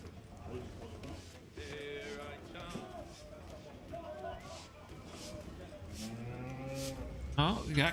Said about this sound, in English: Oh, we got cows.